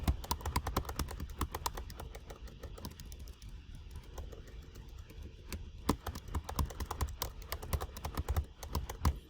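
Fingers type rapidly on a computer keyboard, producing a dense, close run of crisp key clicks with a brief lull in the middle before the tapping picks up again.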